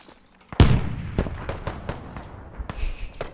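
Gunfire in the military shooter game Squad: a loud nearby shot or blast followed by several scattered, fainter reports and distant pops spread over a few seconds, with no talking.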